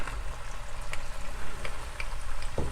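Dark beer is poured into a pot of browning meat for carbonnade flamande, giving a steady sizzling, bubbling hiss with a few soft clinks and a thump near the end, close and moderately loud.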